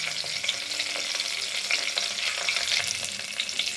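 Shahi jeera seeds sizzling in hot oil in a pan, a steady close crackling fry with bright spattering, no voices.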